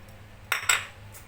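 A spoon mixes chopped onion, chili and coriander for aval vadai in a bowl, giving two quick, light metallic clinks close by against a faint background hum.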